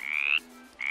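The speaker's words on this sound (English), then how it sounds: "A frog says, ribbit, ribbit." Frog croaking in two clear, high, tonal calls, with a short pause between them, heard alone and up close.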